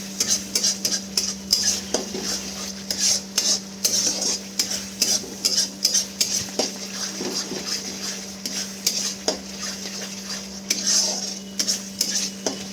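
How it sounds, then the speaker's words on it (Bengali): Masala for bhetki fish kalia is stirred in a pan, with repeated close metal scrapes and clinks over a light sizzle and a constant low hum. "তা ভালো করে মশলাটাকে আরেকটু ভালো করে নেড়ে ছেড়ে নিতে হবে।"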